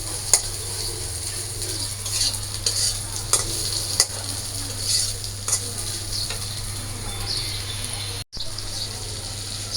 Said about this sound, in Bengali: মাছের ঝোলের জন্য আলু আর মশলা কষানো হয়ে গেছে